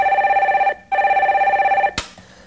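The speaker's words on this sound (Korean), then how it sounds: "전화 연결해 보겠습니다." A telephone rings back while a call is being connected on a Korean stock-investment broadcast, two long electronic ring bursts separated by a short pause, ending with a click as the line picks up.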